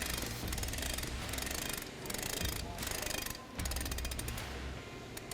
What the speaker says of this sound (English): We're going to take our vice grips, lock onto our shaft, and we're going to turn our 7 turns on.